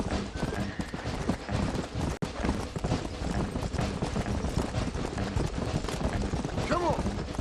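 Horse hooves gallop in a steady, loud clip-clop rhythm through a Red Dead Redemption ride, filling the whole stretch with dense pounding, while voices shout over the running hooves.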